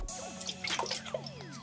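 Water drips and trickles onto a homemade waterproof face mask, making a quick cluster of close, bright droplet splashes and gurgles over a faint background.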